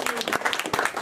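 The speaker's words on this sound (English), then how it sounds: "Give a round of applause." An audience claps at a motorcycling street-skills talk, a quick burst of scattered hand claps that is close and moderately loud.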